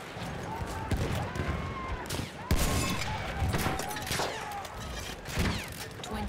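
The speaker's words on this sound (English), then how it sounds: "Oh, they don't like me shooting at their tank." Rapid gunfire in Battlefield 1 aimed at an enemy tank, a dense volley of shots amid in-game explosions and battle noise, with a player talking over the action.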